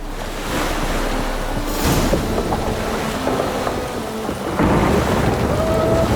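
Rain pours steadily in The Witcher 3: Wild Hunt, with low rumbles of thunder rolling beneath the hiss and swelling twice, all close and continuous with no speech.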